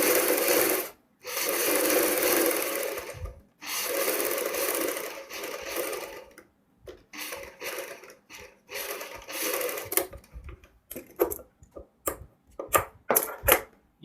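A sewing machine runs close by, stitching fabric over pasted paper for piping on a front V-neck garment: long continuous whirring runs first, then shorter stop-start bursts and quick ticking stitches.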